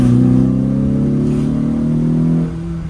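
A carburetted Lotus Elan engine is booted from quarter-throttle cruise, producing a close, loud, buzzing rev that builds steadily for a couple of seconds before dropping off sharply at the end.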